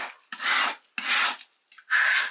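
A plastic scraper is rubbed firmly over transfer tape laid on vinyl lettering for a DIY horse stall sign, giving three close, rasping strokes separated by brief pauses.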